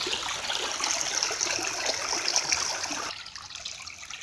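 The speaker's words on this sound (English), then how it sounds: "Standing on top of a rock in this little river." A small flooded river flows steadily over rocks close by, with a continuous bright trickling and rushing wash that drops away sharply near the end.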